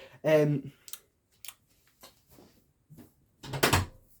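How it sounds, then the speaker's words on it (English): A room door pulled shut partway through, a brief thud with a short bright knock near the end, following a burst of talk, all close and fairly loud. "just closed my door"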